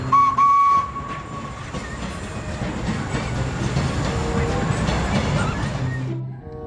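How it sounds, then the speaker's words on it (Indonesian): Thomas toy train from an unboxing of toy vehicles, running with a steady rattling rail-style clatter and a brief whistle tone at the start, with faint talk in the background. "Kereta api Thomas."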